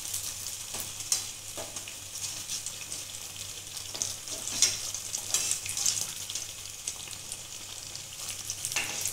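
Bread slices fry in hot oil in a wok, giving a steady close sizzle and crackle with occasional scraping stirs and small pops, and no voices.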